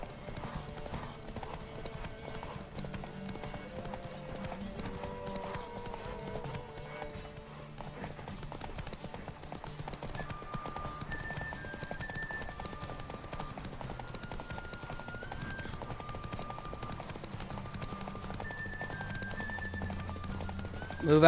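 Horses galloping during a race in The Witcher 3: steady, rapid clip-clop of hooves runs throughout, moderately loud under game music, with no talk.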